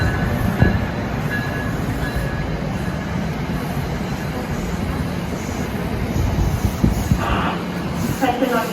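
NJ Transit train 3154 bound for New York pulls into track 1 at Cornwells Heights Station in New Jersey, a steady loud rumble of wheels and cars close by, with a station announcement voice partly over it.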